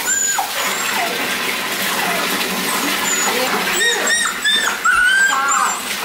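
Two puppies being washed in a tub of water, with high yips and whimpers over steady splashing and running water, close and fairly loud, while a person talks softly in the background.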